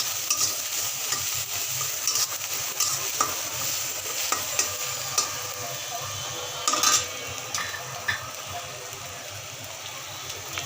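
Noodles stirred in a pan with Maggi masala, salt and coriander powder: continuous scraping of a spoon against the pan over a soft sizzle, with scattered clinks and knocks, close up.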